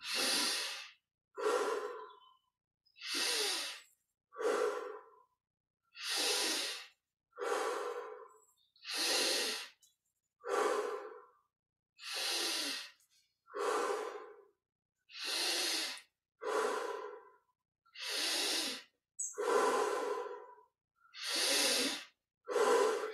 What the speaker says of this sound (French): Inspire par le nez, expire par la bouche. Respiration profonde.